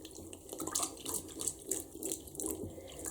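A plush SpongeBob toy being washed by hand in water, with steady splashing and running-water sounds close by, no talking.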